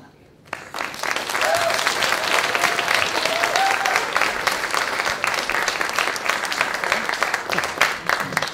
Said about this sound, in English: Thanks for that clapping